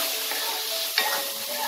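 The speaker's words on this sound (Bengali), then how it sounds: "দিয়ে এবার মশলাটাকে একটু ভালো করে কষিয়ে নেব।" Spice masala with water and salt sizzling and frying in a pan while being stirred, a steady hiss with a faint scrape of the spoon partway through.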